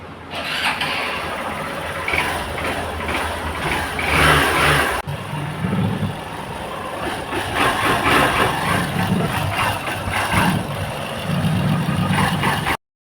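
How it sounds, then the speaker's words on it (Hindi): A Hero Super Splendor motorcycle engine runs steadily nearby after a clutch plate change, a low rumbling idle with slight rises in revs, no talking. "बाइक को मैं एक बार चला के देख लेता हूँ।"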